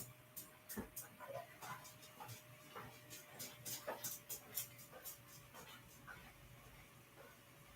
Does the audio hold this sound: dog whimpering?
yes